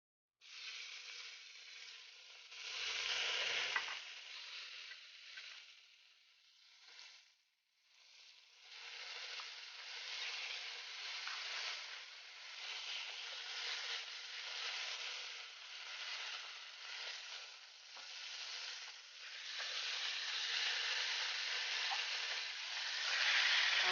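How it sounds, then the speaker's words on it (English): Oxtails browning in a pot for a Jamaican oxtail stew give off a continuous soft sizzle and crackle, fairly quiet. It dips briefly partway through, then swells louder toward the end, with no talking. "I'm going to go ahead and start adding the oxtails"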